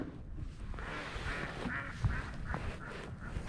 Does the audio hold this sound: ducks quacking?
yes